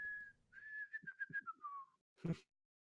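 A man whistles a melody from the video game Ocarina of Time, a single clear sustained note followed by a quick run of short notes sliding downward, close and alone, then a brief thump.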